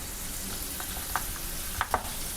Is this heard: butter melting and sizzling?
yes